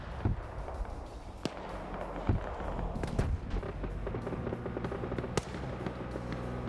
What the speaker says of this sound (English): I am still hearing long-range AT shots,